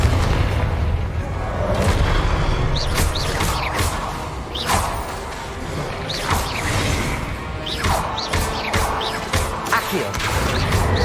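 Repeated Confringo explosion spells blast in a wizarding video game, a series of loud booming crashes and whooshes at irregular intervals over continuous battle noise, with a voice calling out between them.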